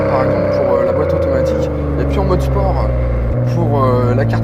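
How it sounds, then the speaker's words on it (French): A 400 hp car engine accelerates hard in sport mode with manual gear selection, a loud, guttural roar that climbs steadily and shifts abruptly once, with a voice talking over it throughout. "un son assez guttural, vous l'entendez, du moteur qui demande qu'à rugir"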